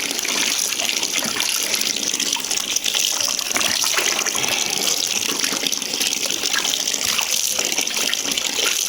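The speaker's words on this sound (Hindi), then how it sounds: "इनको मैं पानी में डाल रहा हूँ" Running water gushing steadily and loudly, with occasional splashes as mangoes drop into it, no voices.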